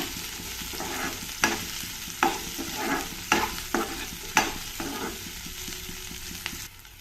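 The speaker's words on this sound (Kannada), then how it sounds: "ಇದನ್ನು ಸ್ವಲ್ಪ ಬಾಡಿಸ್ಕೊಳ್ಳೋಣ ಈರುಳ್ಳಿ ಒಂದು ಸ್ವಲ್ಪ ಟ್ರಾನ್ಸ್ಪರೆಂಟ್ ಆಗೋವರೆಗೂ" Onions sautéing in a pan, a steady sizzle punctuated by a series of sharp spatula scrapes and knocks against the pan at irregular intervals, with no talking.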